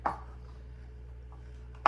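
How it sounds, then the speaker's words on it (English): Two sharp knife strikes chopping celery on a cutting board in a home kitchen, one at the start and one near the end, with a quiet gap between. "I'm going to start chopping up my celery"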